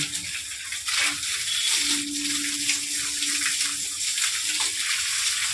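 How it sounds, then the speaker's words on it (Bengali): Water gently poured from a bucket onto garden soil, a steady soft hiss and trickle that runs without a break, with faint background noises. "ঝিরি করে জল দেওয়া হচ্ছে"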